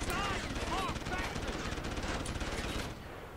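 Gunfire from Deus Ex: Human Revolution, loud sustained rapid automatic shots rattling almost continuously for about three seconds before easing off.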